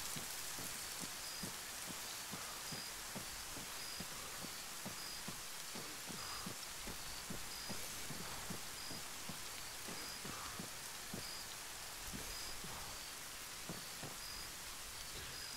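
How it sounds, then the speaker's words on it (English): Rain in the Arma 3 Apex jungle setting falls as a soft, steady hiss, quiet and even throughout, with faint regular low thuds underneath and no talking. "I like the rain, though."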